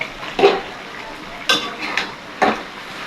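A spoon scrapes and clinks against a pot as meat curry is stirred with spices, giving a few separate bursts of scraping over a low background.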